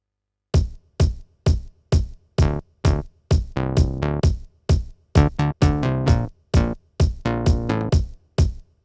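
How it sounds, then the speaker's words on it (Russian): Synthetic bass voice on a Casio PX-S3000 digital piano plays a bouncy riff of punchy, short plucked notes with sharp attacks and quick decays, some held slightly longer, loud and alone. "Послушаем синтетический бас."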